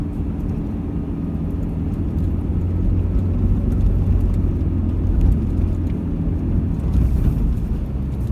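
A vehicle drives over sand dunes, with a loud, steady low engine rumble mixed with wind buffeting on the microphone throughout, no voices.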